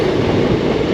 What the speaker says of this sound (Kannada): ನೋಡಿ ಒಂದು ಟ್ರೈನ್ ಬರ್ತಾಯಿದೆ ಈಗ